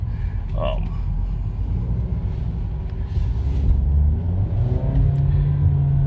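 A 2020 Ford EcoSport SES 4WD engine rumbles low and builds in pitch as it revs in sport mode, a close, steady drone heard from inside the vehicle.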